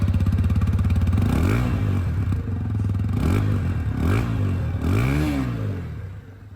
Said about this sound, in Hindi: रियर सेक्शन में जब आप आ रहे हैं दोस्तों तो यहाँ पर इसकी जो एग्जॉस्ट साउंड है वो भी मैं आप लोग को सुनाऊंगा